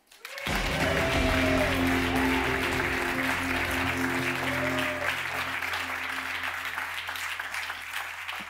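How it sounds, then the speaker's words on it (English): Sustained, dense applause from a large crowd at an award show begins abruptly and continues loudly for several seconds without a break. "Please give him a warm round of applause, Alex Schulz."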